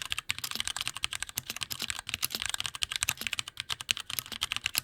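Rapid, clacky typing on a metal 60% mechanical keyboard, dense irregular keystrokes up close with no voices.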